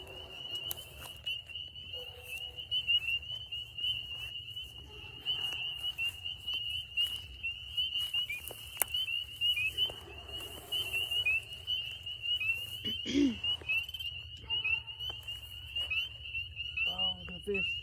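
Spring peeper frogs call at night in a steady chorus of high, piercing peeps, moderately distant and continuous. Soft footsteps and faint rustling sit underneath, and a voice speaks briefly near the end.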